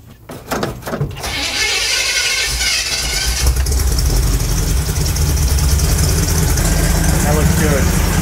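A C10 truck engine cranks with a few choppy bursts, catches, and settles into a steady, loud, close idle with a low rumble that runs to the end.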